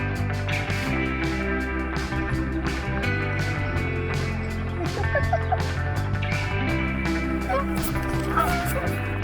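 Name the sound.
Canada geese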